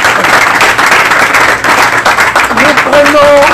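A television studio audience applauds at a public political debate show, loud close clapping that fills the room with a murmur of voices and a speaking voice rising near the end.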